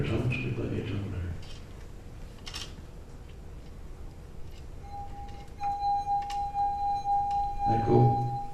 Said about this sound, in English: if you wet your finger and run your finger around the rim of the glass, it produces a tone